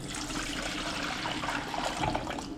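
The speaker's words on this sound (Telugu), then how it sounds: "ముందు నీళ్ళు పోసుకుందామా" Water pours steadily into a cooking pot for rasam, a continuous close splashing rush lasting the whole moment with no talk over it.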